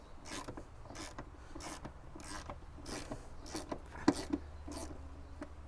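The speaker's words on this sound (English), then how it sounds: "thread on the bolts and then ratchet down the heads without messing it up" Hand ratchet tightening bolt heads on a TRD door stabilizer fitted to a Toyota Tacoma TRD Pro, giving a run of quiet, evenly spaced clicking strokes up close, with one sharper metallic tick near the end.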